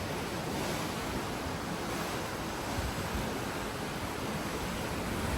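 Ocean waves in mid-ocean at night, heard from the deck of a very large cruise ship, form a dense, continuous rushing wash mixed with wind noise, loud and steady with no talk.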